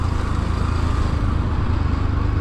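A motorcycle ridden on a rough off-road mountain trail in Nepal, its engine droning close with a steady pulsing throb and no talk.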